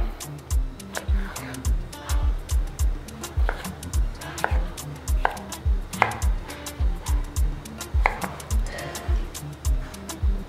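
Peeled potatoes being cut on a cutting board, a regular series of dull knife thunks roughly twice a second, close and moderately loud, with nothing else prominent.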